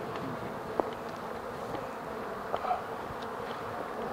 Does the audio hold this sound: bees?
yes